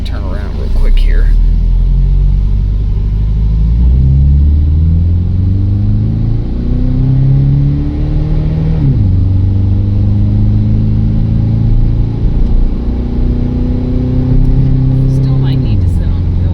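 An old pickup truck engine rumbles close and loud while driving and turning around, its pitch rising and falling through several gear changes under steady cabin noise.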